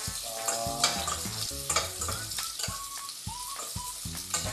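Garlic frying in a pan as the start of adobong chicken liver: a quiet, steady sizzle with crackles, with tonal music playing over it.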